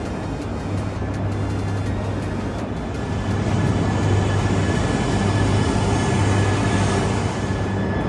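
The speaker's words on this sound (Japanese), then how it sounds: "出発していったのは東京方面に向かう列車でした。" A train bound for Tokyo rumbles and hums steadily as it pulls away from a station platform, the low mechanical drone building slightly in loudness, with a faint high whine above.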